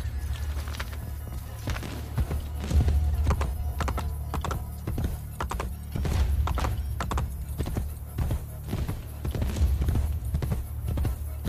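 Horse hooves clip-clop in a steady, rapid rhythm while riding in Assassin's Creed Brotherhood, close and prominent with a constant low rumble underneath.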